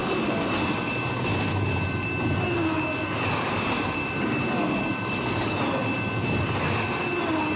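Amtrak's Auto Train rolls steadily past at close range, a continuous loud rumble of passenger cars and long auto racks with wheel noise and a faint squeal running throughout.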